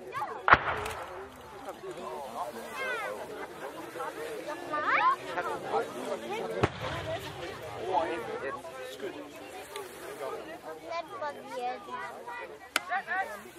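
A 120 mm heavy mortar fires a few sharp, distant booms spaced several seconds apart, heard beneath steady commentary from someone talking throughout.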